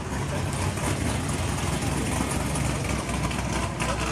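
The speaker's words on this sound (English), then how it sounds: "I don't know if you hear that Camda's Camaro right over there" A Chevrolet Camaro idles at a midnight car meet with a steady, low rumbling drone that carries on unbroken through the short stretch, heard without talk.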